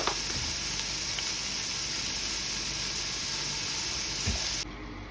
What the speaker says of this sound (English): The celery is cooking really quickly with a few seeds and ready.